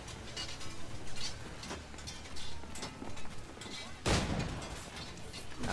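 Ship cannon fire during a naval battle in Assassin's Creed IV Black Flag, repeated booming shots over busy sea-battle ambience with one loud near blast toward the end.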